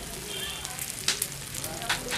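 Chili powder and turmeric dropped into hot oil in a pan crackle with a bright, fizzing sizzle, while a voice speaks over the cooking.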